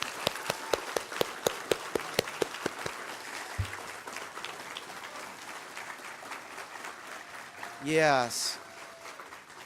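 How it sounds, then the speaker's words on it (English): Applause for poetry recitation champions, beginning as sharp, evenly spaced claps from a small group that fade into a softer patter, with a brief spoken word and a whooping cheer near the end. "Can we have a huge round of applause for all of the amazing, amazing champions?"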